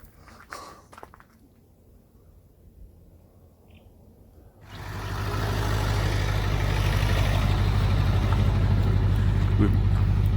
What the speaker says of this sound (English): We're just going to move the vehicle forward